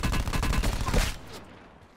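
A close, loud burst of rapid automatic gunfire in Call of Duty, about a second of dense shots that then fades out quickly.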